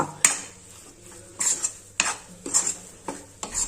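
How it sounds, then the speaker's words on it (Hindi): Flour being dry-roasted in a pan with ghee for laddoos, a utensil scraping and clinking against the metal in bursts of stirring strokes, close and moderately loud with faint background hum. "अब आटे में को अच्छा लाल होने तक और खुशबू आने तक लगातार चलाते हुए भून लेंगे"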